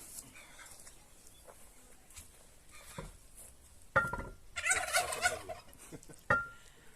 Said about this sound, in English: Any little weird bang or noise, the turkeys normally start.